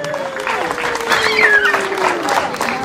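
Applause and cheering from guests at a children's Christmas party for Louange, steady clapping under a whistling, rising tone and some voices.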